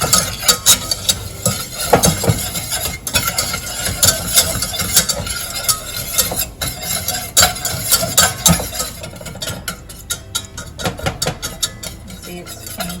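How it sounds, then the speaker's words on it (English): Flour being stirred into melted butter in a pan for a roux, with repeated close scraping and clinking of a utensil against the pan in a steady rhythm, no talk. "Butter melted. Do this just to help it snappy knappy. Stir about 1 minute."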